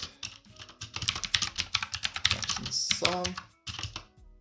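Rapid clicking of a computer keyboard as code for a beginner's test suite is typed, steady bursts of keystrokes running under a man's speech throughout.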